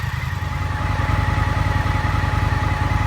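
An Indian FTR 1200 motorcycle idles close by with its cooling fan running, a loud, steady engine throb with an even pulsing rhythm under a constant whirring hum.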